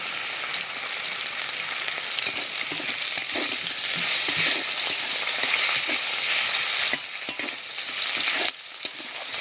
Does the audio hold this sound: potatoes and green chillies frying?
yes